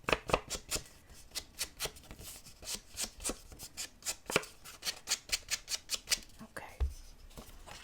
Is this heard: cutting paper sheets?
yes